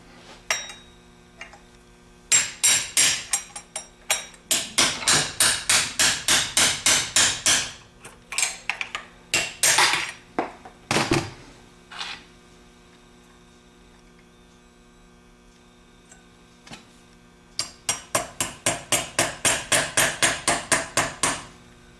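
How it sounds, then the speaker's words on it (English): Sharp metallic hammer taps knock a bearing out of a vintage Chrysler starter held in a vise, coming in fast rhythmic bursts of many strikes with a quiet pause in the middle, close and loud over a steady mains hum. "I think it might be better to close this in the vise, push that open, and tap the bearing out that way."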